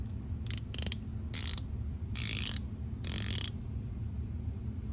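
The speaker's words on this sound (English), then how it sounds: "Again, nice ratcheting feature." An IRONCUBE ratcheting end wrench, a Chinese-made tool being turned on a 17, gives five short bursts of crisp clicking at an uneven pace over a low steady hum.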